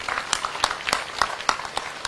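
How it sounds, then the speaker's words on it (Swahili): An audience at a Nairobi County event claps in scattered, uneven bursts, with individual sharp claps standing out from a thin crowd, heard from a moderate distance for about two seconds. "Tuwapigie makofi."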